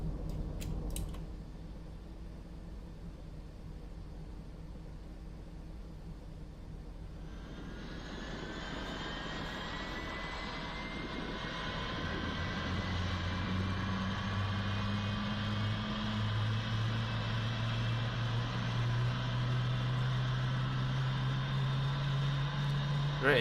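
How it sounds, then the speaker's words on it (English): A Boeing 777's number 2 engine starting in the X-Plane 11 flight simulator: a low cabin hum, then from about seven seconds a rising turbine whine that climbs steadily and grows louder as the spool-up builds, with speech occasionally over it. "Engine 2 starts."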